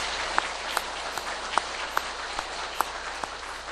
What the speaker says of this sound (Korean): 우리 감사와 격려의 박수를 한번 뜨겁게 보내도록 하겠습니다